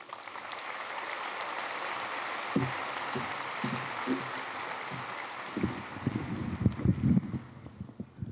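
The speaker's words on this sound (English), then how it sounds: "give Superintendent Erin Kane a warm round of applause" Broad, sustained applause from a large audience at a 2024 high school graduation ceremony, steady wash of clapping throughout with some nearby louder claps toward the end.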